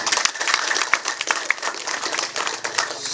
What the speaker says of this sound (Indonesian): Tepuk tangan untuk beliau dulu.